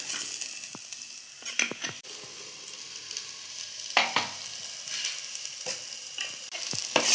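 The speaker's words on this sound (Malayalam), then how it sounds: "ഈ വെളുത്തുള്ളി മൂത്ത് വന്നിട്ടുണ്ട് ഇനി നമുക്ക് അരപ്പ് ചേർക്കുക അതിലേക്ക്" Garlic frying in a pan, then masala paste added and stirred in for a curry, a soft continuous sizzle with sharp scraping spoon strokes and clatters, close by and without voices.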